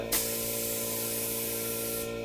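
A paint sprayer applies Dixie Belle mineral chalk paint in a white spray booth, a steady close-up hissing spray that starts abruptly and runs for about two seconds over a constant mechanical hum.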